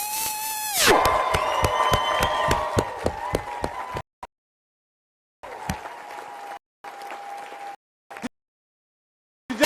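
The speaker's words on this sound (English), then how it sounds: "giving them the biggest round of applause they probably ever had in their life" A loud crowd at a foster parents' event bursts into applause and cheering that carries on steadily for several seconds, then cuts into brief fragments separated by silence.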